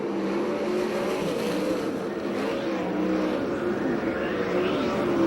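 USAC/CRA sprint cars race at Perris, California, in a constant droning engine roar with layered overlapping engine tones. The roar is sustained and fairly loud and rises and falls slightly as the cars run close together.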